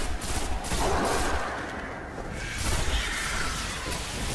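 Machine gun fire in a video game: a sustained, dense rattle of rapid shots with brief swells, loud and continuous throughout.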